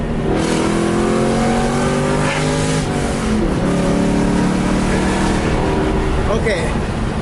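A Ford Mach 1 with Borla Attack mufflers welded to an SLP catback revs loud and close, its engine note rising and falling in repeated pulls over a constant rushing exhaust roar.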